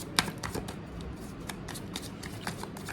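Tarot cards being shuffled by hand, a quick run of crisp papery riffles and flicks with a few cards dropping, close and fairly quiet with no talk.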